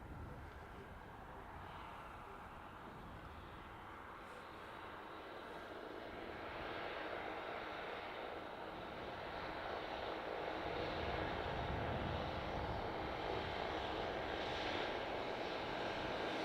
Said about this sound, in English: That overhead was LX39, San Fran to Zurich.